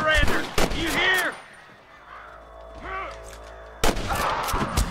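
Shootout gunfire in the video game Red Dead Redemption, sharp loud shots in a few distinct bursts separated by quieter gaps, with game character voices speaking between them.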